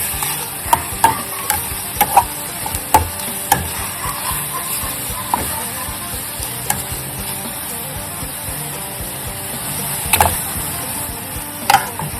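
Beef stir-fried in a pan with lemongrass and chili for a northeastern Thai stew, giving a steady close sizzle with repeated sharp scrapes and clacks of the stirring utensil against the pan, no voices.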